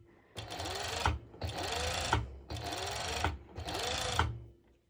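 Sewing machine stitching elastic onto ruched high-waisted bikini bottoms in four close bursts of fast needle chatter, each about a second long and separated by short pauses.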